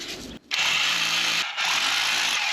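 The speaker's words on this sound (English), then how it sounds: "And now the jackhammer to try and chisel this out." A loud, continuous electric jackhammer chiseling roars steadily, briefly cutting out after a short pause near the start, then resuming at full intensity.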